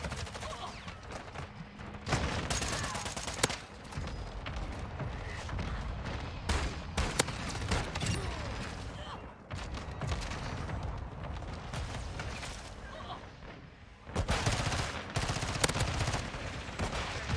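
A full-auto gun in a video game fires long, dense volleys of rapid shots that run almost continuously, loud and close, with brief pauses between bursts.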